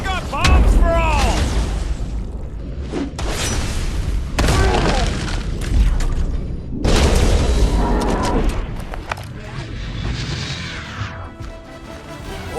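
Bombs exploding in a Marvel's Guardians of the Galaxy video game battle: repeated heavy booms and crashing blasts, loud and close, mixed with shouting voices and battle noise.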